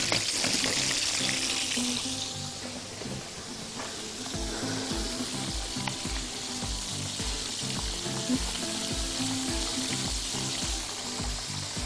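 Fish fillet frying in hot oil gives a continuous bright sizzle and crackle, with a faint low rhythmic knocking underneath, heard steadily and without talk.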